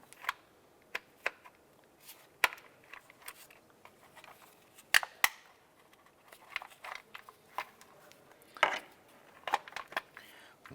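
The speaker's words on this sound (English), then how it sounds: "Using a flathead screwdriver, want to loosen these two plastic buttons." Sparse plastic clicks and small snaps as a flathead screwdriver pries loose two plastic buttons on the engine cover of a 2001-2005 Honda Civic, close by and fairly quiet, with scattered light knocks between.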